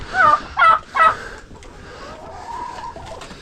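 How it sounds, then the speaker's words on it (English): A flock of 44 hens and 4 roosters gives three loud, close clucking or squawking bursts in quick succession, then quieter, steadier calls and chatter from the birds behind. "here's the 44 birds and 4 roosters"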